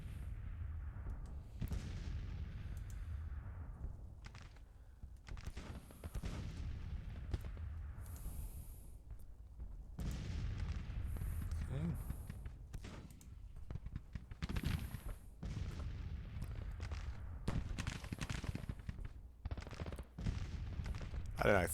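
Artillery booms and crackling rifle volleys from a Grand Tactician: the Civil War battle at Antietam roll on continuously, dense overlapping bursts at moderate distance, with occasional quiet speech beneath.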